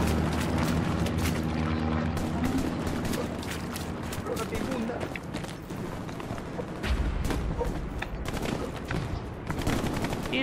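Bombardment and gunfire in the Hell Let Loose war game: dense, continuous bursts of shots and heavy explosions fill the scene, with rumbling impacts and voices talking over the din.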